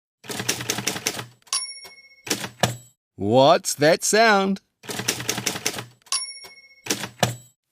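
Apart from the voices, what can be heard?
typewriter typing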